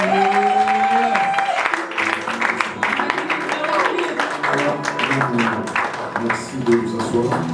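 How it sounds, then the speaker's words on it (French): A church congregation applauds and cheers loudly and steadily throughout, with dense clapping mixed with voices and a tonal singing or music line early on. "Nous pouvons acclamer encore un peu."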